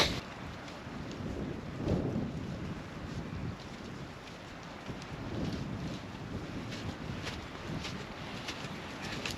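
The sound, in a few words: wind blowing over a lake in snow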